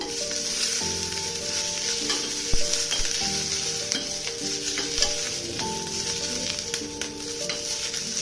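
Chutney ingredients, including mild chillies, frying in an already hot pan, giving a steady close sizzle with occasional stirring knocks, over soft tonal background music.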